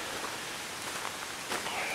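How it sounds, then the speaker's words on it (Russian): Steady heavy rain hisses all around in a forest near Kralicky Sneznik, a dense wash of drops pattering on leaves and ground without a break. "Пошел дождик такой, довольно-таки сильный."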